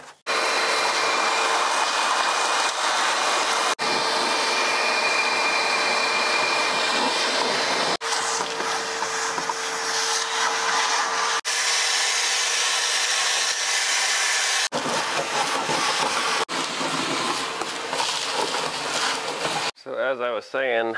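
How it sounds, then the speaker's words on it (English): A vacuum cleaner whines loudly and continuously while cleaning a barn-find Apache truck, broken by several abrupt cuts, with a brief patch of talking near the end. "we'll get the vacuum cleaner out"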